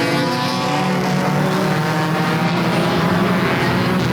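Mini stock race cars at Peterborough Speedway roar together in a loud, sustained engine drone as the field takes the green flag, close and continuous with no pause.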